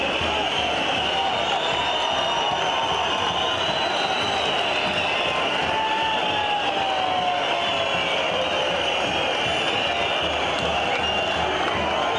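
A large crowd at an outdoor May Day rally applauds and cheers as a couple with Turkish flags steps onto the stage, producing a dense, continuous roar of clapping and voices that holds steady throughout.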